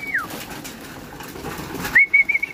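Pigeons at a breeder's loft giving soft coos and a couple of short whistling calls, nearby over faint background rustle, with brief flutters near the end.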